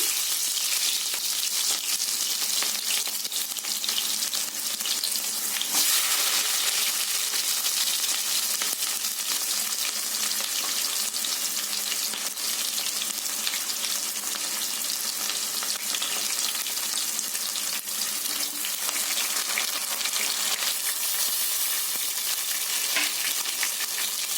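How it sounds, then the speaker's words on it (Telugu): Chopped onion pieces frying in hot oil for a chicken curry made without masala, a dense, steady hiss of sizzling heard up close, with occasional faint stirring sounds and no talking. "ఆయిల్ వేడయ్యాక కట్ చేసుకున్న ఉల్లిపాయ ముక్కలు,"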